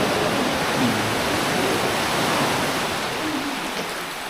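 A large waterfall at Dingalan, Aurora roars steadily as water pours onto the rocks below, a broad, constant rushing wash that holds even for several seconds and eases slightly toward the end.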